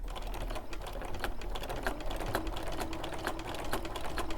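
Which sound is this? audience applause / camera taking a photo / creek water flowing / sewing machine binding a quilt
sewing machine binding a quilt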